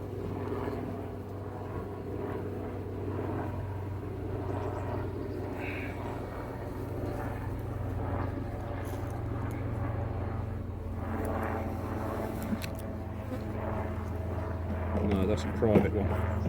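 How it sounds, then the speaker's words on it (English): A helicopter drones overhead with a steady low hum that runs the whole time at an apiary. Someone talks over it. "Another helicopter, I wonder what's going on there."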